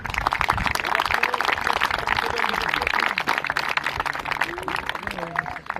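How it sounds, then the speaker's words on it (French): Spectators applauding gladiator fighters (mirmillo and hoplomachus) at an outdoor reenactment, dense clapping throughout with an announcer talking over it. "On les applaudit."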